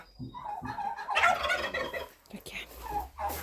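Turkeys waiting to be let out to pasture screech and gobble in a burst of overlapping calls, close and fairly lively, with a few shorter squawks trailing off and no talking over them.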